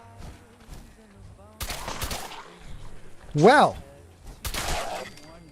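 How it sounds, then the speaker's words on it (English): Gunfire in the video game Fallout, with a few loud, sharp shot bursts and ringing impacts close by, spaced over a few seconds, and a brief spoken word among them. "the gun certainly took that dude out"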